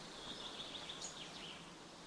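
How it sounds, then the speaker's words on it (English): Birds chirp in the outdoor world of the video game Eastshade, a quick series of faint high tweets over a steady wash of ambient noise, distant and soft. "Because there's birds, clearly. You can hear them right now."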